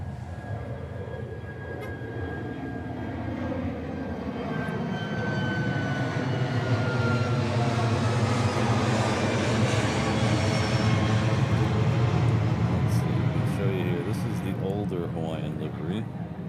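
A Hawaiian Airlines jet airliner in older livery at Honolulu airport, its engines a broad, steady roar that builds gradually and holds in the distance, with a person talking over it.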